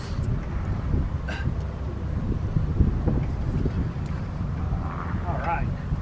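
Wind gusts buffet the microphone on a windy rooftop of an RV, a low rumbling roar that stays fairly loud and continuous, with faint voices briefly breaking through.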